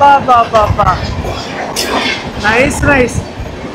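A train in first class crosses forested country at sunset, its wheels rumbling and clattering on the tracks in a steady, close, loud roll, with a voice speaking briefly over it.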